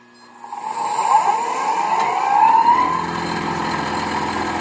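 A wood lathe spinning fast, around 2500 RPM, while a bowl is being turned: a loud sustained whine with shifting tonal pitch and steady mechanical roar, rising and wavering slightly as the cut changes.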